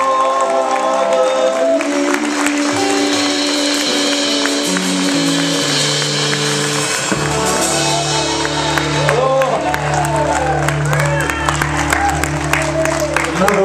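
Audience applause and cheering for a Hawaiian musician, Nahoku Hanohana Award winner, at a live show, steady clapping with whoops and shouts throughout, while band tones ring underneath.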